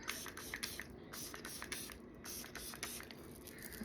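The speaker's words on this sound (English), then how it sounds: "This is 4-in-1 hydrating spray to set everything." A 4-in-1 hydrating setting spray is pumped repeatedly, giving a string of close, crisp hissing bursts in a quick, even rhythm with brief pauses between.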